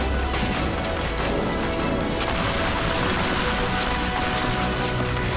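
A colossus enemy in a video game fires at the player, producing a dense, continuous barrage of loud crashing shots and impacts that never lets up.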